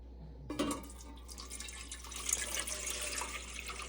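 Water, roughly four cups, pours into a pot to start a simple syrup for a fireweed drink, a soft splashing stream that begins abruptly and runs steadily, quiet and close.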